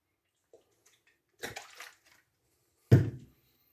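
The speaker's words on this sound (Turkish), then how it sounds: "Peçeteyi güzelce ıslatıyorum." Water briefly pours and splashes onto a paper napkin in two short bursts, the second louder, amid near silence.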